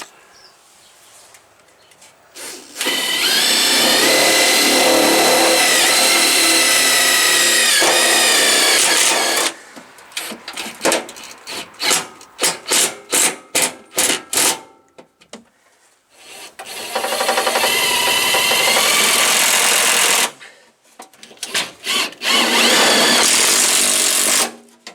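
A power drill drives screws into a cracked heat shield by the spare tire on a 2015 Ford Transit, loud sustained whirring runs broken by short rapid bursts of trigger pulses, close up and alone.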